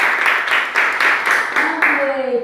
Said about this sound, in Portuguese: Uma salva de palmas pra nós todos aí